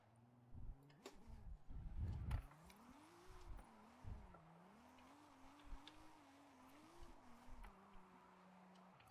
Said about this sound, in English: I'm gonna get a solid drift a few times around